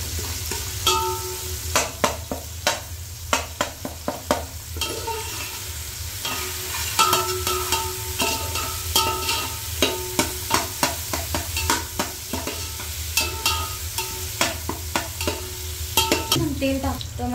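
Tomatoes frying in hot oil in a pan for prawn biryani, a steady sizzle under repeated scraping and pressing strokes of a spoon as the pulp is mashed and stirred.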